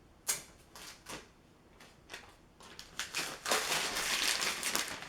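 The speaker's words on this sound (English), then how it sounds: "Apple makes it very easy to peel this off." Plastic film peeled off an iPhone 11 box gives a run of close crinkling, crackling bursts, sparse at first and then a denser, louder tearing rustle toward the end.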